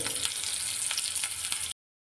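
Mustard seeds and chopped shallots frying in hot coconut oil, a loud, dense, continuous sizzle with faint crackles, close up, cutting off abruptly.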